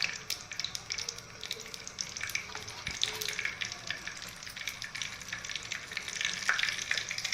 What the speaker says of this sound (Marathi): तेल चांगलं गरम झालं की मोहरी टाकायची